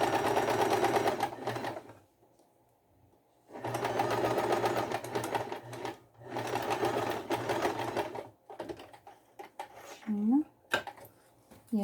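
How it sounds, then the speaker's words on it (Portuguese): A domestic sewing machine stitching fabric for a double-sided children's underwear garment, whirring steadily in three long runs separated by pauses, close by, with brief speech near the end. "Eu não gosto de mostrar costurando, às vezes por causa do barulho, né?"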